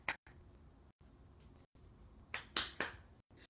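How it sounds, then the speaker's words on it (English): Children at a storytime session clap their hands in a few faint, scattered, uneven claps, with brief silent gaps between. "Can you clap your hands?"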